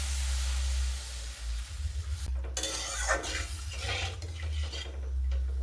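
Water poured into spices frying in a pan for a jackfruit curry with tomato ketchup and salt, a loud rushing sizzle and hiss over a steady low hum, with stirring clatter as the liquid hits the hot masala.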